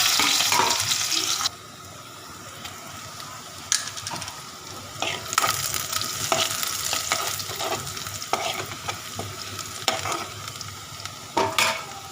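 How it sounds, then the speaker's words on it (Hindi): Tempering spices for dal crackle and sizzle loudly in hot oil, with a sudden hiss and then steady frying punctuated by stirring clinks. "यहाँ तड़का लगाते हैं जल्दी से"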